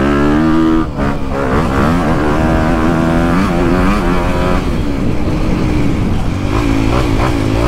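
A motorcycle's engine drones loud and close as the bike is ridden, its pitch rising and falling smoothly with throttle changes, under rushing wind noise.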